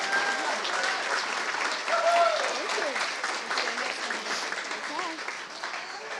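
An audience at a regular public meeting applauds and cheers an award winner, sustained clapping with voices talking over it.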